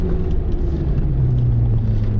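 A Mazda RX-7 rotary engine pulls hard on a race track, a steady, close droning rumble with a sustained low tone rising slightly in pitch through the short stretch.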